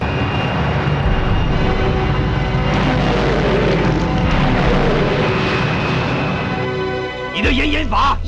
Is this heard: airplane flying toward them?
yes